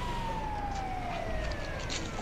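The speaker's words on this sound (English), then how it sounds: "Cops and Vincenzo will sometimes turn on the sirens to pull into like a drive-thru." Emergency vehicle siren in a GTA video game, a steady wailing tone sliding slowly downward over constant road and engine noise, fairly quiet.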